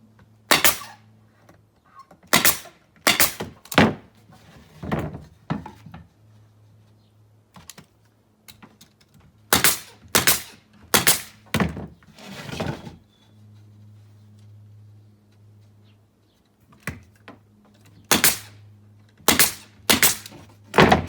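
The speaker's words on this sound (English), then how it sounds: "12 inch is my long side, and it's going to staple into my 11 inch side" A staple gun fires into MDF speaker box panels in sharp, loud, close snaps, single shots and quick clusters separated by short pauses, with no talk.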